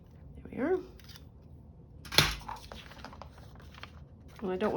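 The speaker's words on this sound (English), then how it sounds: "I don't want to trim all the way around because I just need a spot to put the scissors in." Scissors snip a few times while trimming around a spot, giving short crisp clicks and one sharp louder cut mid-way, against a quiet room with a soft voice and faint handling noises.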